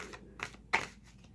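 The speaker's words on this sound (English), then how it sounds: "I need to do another shuffle" A deck of playing cards is shuffled up close in a few quiet, short riffling bursts, with a brief louder snap near the middle.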